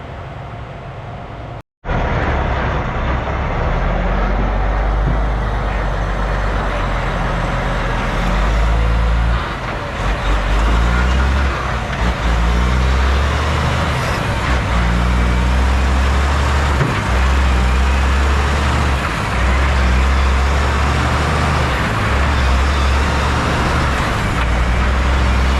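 A Kenworth T880 truck drives steadily in Colombia, its engine and road noise forming a loud, continuous rumble from start to finish after a brief cut near the beginning.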